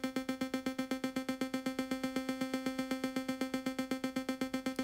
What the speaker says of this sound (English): bring the envelope all the way down and make it more of a plucky sound like this.